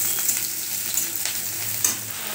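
Taro stolon curry with prawns fries in plenty of oil, a dense, steady sizzle with a few short stirring scrapes, close and loud, and no voices.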